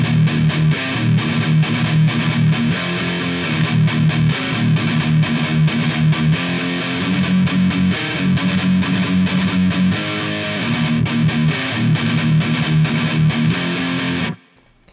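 Heavily distorted electric guitar runs through the rest of the intro riff of a song, steady and loud for about fourteen seconds before cutting off, with no voices.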